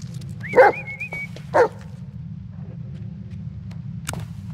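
Bullet the dog in the Blair Witch game gives two short, close barks with a high whimpering whine between them, then falls quiet over a low ambient hum, with a faint click near the end.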